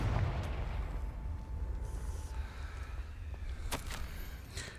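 Confringo spell explosion in a magic video game: a low rumbling boom rolls out and fades, followed by a few sharp crackling pops, with no voices.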